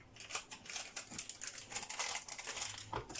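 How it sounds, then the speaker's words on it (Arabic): A yeast packet crinkles and rustles as it is torn open and shaken out over a kilo of flour for pizza dough: quiet, close, irregular papery crackles and light patters, with no speech. "كيس خميرة نفضي عليهم"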